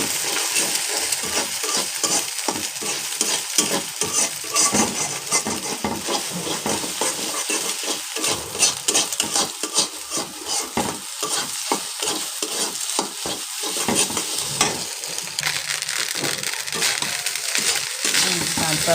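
An egg frying in a pan gives a steady crackling sizzle with dense, continuous spatter and scattered small clicks of utensils, loud and close throughout with no talk.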